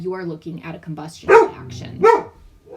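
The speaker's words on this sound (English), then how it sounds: "Sorry about my dogs. A squirrel is crawling by the window and they're crazy." Pet dogs barking excitedly at a squirrel outside a window, a couple of sharp loud barks bursting out over a person lecturing indoors.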